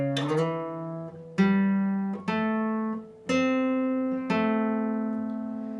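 A slow guitar riff from the first part of a song played alone: several plucked notes ring out one after another, each sustaining and fading before the next attack, with no talking.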